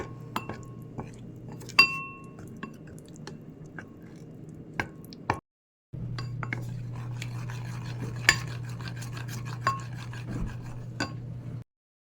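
Potatoes being mixed in a bowl with a marinade of powdered puffed rice, giving light repeated clinks and scrapes of a spoon against the dish, quiet and close, with a short pause partway through.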